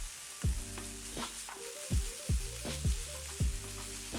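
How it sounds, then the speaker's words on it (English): Mushrooms and onion frying in a pan, a steady close sizzle with repeated stirring scrapes and clatters about every half second, moderately loud with no talk. "I'm adding the now pulled mushrooms straight to the onion, letting that cook for another 7-8 minutes."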